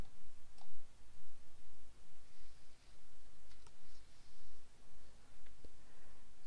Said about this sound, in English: I'll click OK for that, and just going to click on Run